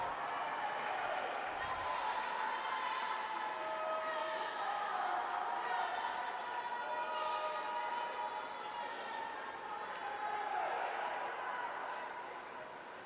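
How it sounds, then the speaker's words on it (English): Spectators at an indoor swimming championship cheer a swimmer on, a sustained crowd roar with shouts and whistles echoing around the pool hall, fading slightly near the end while commentators talk. "the Brooklyn contingent is Royal Court cheering him on"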